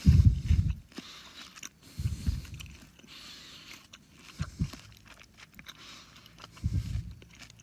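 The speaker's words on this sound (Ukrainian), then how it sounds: "Легко жується." Firm, sweet Ice Peach bitten and chewed up close, with several loud crunchy bites followed by softer rhythmic chewing in between.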